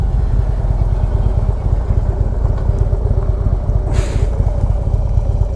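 Kawasaki KLR 650 motorcycle ridden through a turn, its engine a loud steady rumble with wind noise, and a brief scraping burst as the pegs drag on the road.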